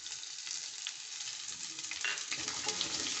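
Steady crackling sizzle of garlic ginger paste frying in a hot pan, with small pops and a soft stirring scrape, close and without any talking.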